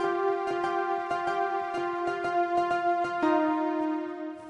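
Fortnite music blocks playing a melody, bright sustained synth-like tones with soft rhythmic pulses underneath, steady and moderately quiet, no talking.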